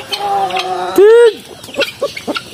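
Broiler chickens cluck while feeding, with one loud, drawn-out squawk midway, then a run of short, quick clucks and pecking sounds close by.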